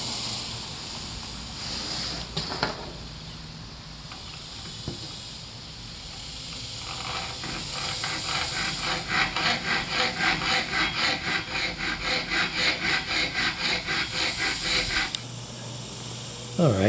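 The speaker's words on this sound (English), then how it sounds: "It's a metal cutting blade. It's marked medium metal, 24 teeth per inch." Hacksaw fitted with a medium metal-cutting blade, 24 teeth per inch, rasps back and forth through metal in a steady run of close, rhythmic strokes, up close. Scraping and handling come first, then about seven seconds of continuous sawing.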